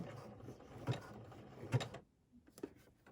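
A sewing machine stitching a button in place gives faint, quiet mechanical whirring with a few soft clunks, then stops.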